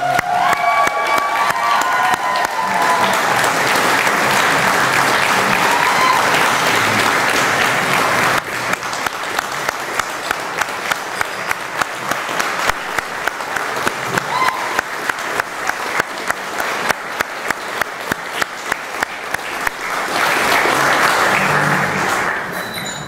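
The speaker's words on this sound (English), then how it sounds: "Let's give them all a warm round of applause." Wedding guests applaud warmly and steadily for the bride and groom, a dense, loud round of clapping from a large room that holds for the whole stretch with a few cheers mixed in.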